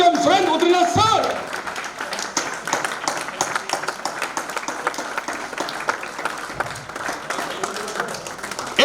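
The audience at a talk show in Agra applauds to welcome a property-expert speaker. A short burst of voice comes first, then dense, lively clapping carries on at a moderate level.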